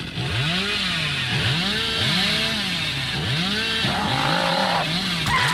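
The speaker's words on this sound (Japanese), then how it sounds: "枯れ木が切れない切れないチェーンソーってさ、どうなん、チェーンソー弱すぎ" A chainsaw revving and surging in repeated rising and falling bursts in the Dead by Daylight video game, loud and continuous throughout with no talking.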